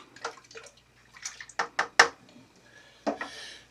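Rehydrated yeast being stirred into homebrew wort in a small container, heard as quiet, close sloshes and light clinks in uneven bursts over a few seconds.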